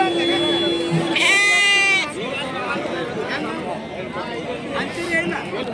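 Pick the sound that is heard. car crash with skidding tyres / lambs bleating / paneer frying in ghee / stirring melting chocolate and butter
lambs bleating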